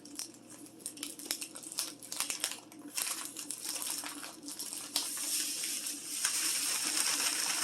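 Plastic bag of pork chop coating mix being opened and handled in a kitchen, close crinkling and rustling with sharp crackles and a rising rattle of loose mix toward the end.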